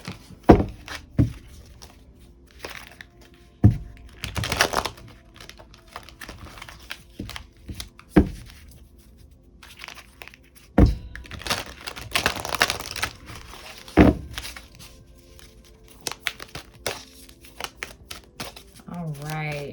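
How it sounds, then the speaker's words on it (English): A deck of oracle cards is shuffled by hand, with crisp riffles, card slaps and taps in irregular bursts close to the microphone, while someone speaks at moments in between. "We're going to get some oracle cards."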